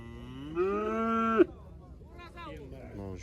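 Young heifers at a Kyzylorda livestock market give a long, loud moo, followed by shorter, quieter lowing from other cattle nearby.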